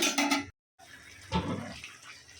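A little water is poured into a pan of bottle gourd greens cooking with garlic: a brief splashy gush, a short silent gap, then a longer, softer trickle and hiss.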